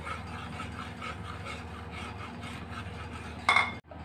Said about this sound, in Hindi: ये सूजी इसमें बेसन में आहिस्ता आहिस्ता डाल दें और इसे भी साथ ही भून लें